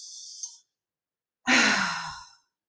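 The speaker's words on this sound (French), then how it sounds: "Je t'invite à déjà prendre 3 grandes respirations." Two slow, deep breaths close to the listener: a soft, airy intake followed after a short pause by a longer, heavier sighing exhale, in an otherwise silent setting.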